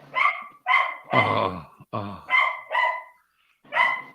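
A dog barks in a series of sharp, close barks in a home setting, about six to seven loud barks in quick bursts with short gaps, and a brief spoken word from a person among them.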